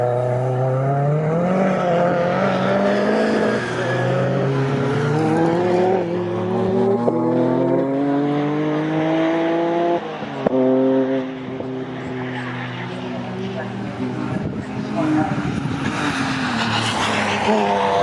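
Classic Thunder Saloon and Jaguar Challenge race cars lapping Snetterton circuit, loud engines rising and falling through the gears in continuous overlapping sweeps, with a commentator talking over the racing.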